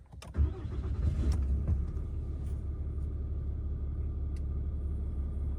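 A brand-new truck's engine restarts with a brief cranking burst, then settles into a steady, close, loud idle rumble that runs on alone.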